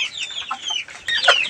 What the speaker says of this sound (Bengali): পাহাড়ি মুরগিগুলো আর কি